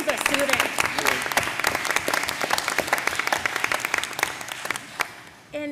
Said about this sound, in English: Big applause to you and the students.